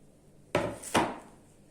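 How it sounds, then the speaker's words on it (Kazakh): A knife cuts green onions into long thin strips on a board for a cabbage salad, two sharp knocks about half a second apart, close and clear, with no talking. "кішкене ұзынша етіп тураймыз."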